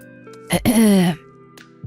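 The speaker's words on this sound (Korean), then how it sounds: "그 침묵을 깬 건 다름 아닌 어머님의 헛기침이었어요" A single short throat clearing, close and abrupt, rises out of near silence and fades quickly.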